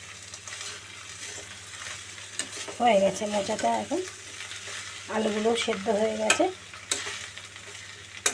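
Banana flower frying in a pan for a Bengali vegetarian ghonto, with steady sizzling and bursts of stirring scrapes; someone talks over much of it.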